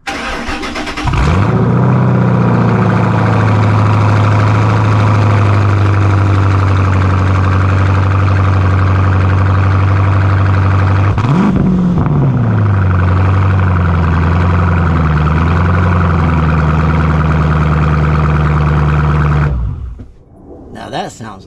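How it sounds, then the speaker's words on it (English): A 2005 Ford Mustang GT engine with a cold air intake cranks and fires up from cold, revving briefly then settling into a steady, loud idle before cutting off near the end. "Let's do a cold start on it real quick."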